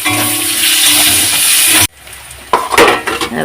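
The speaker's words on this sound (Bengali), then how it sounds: "পেঁয়াজটা দিয়ে দিচ্ছি দিয়ে দিয়ে এবারে নাড়তে থাকবো" Onions dropped into plenty of oil for chicken kosha hiss loudly in a pan, the sizzle cutting off abruptly and then returning with stirring clatter and scraping.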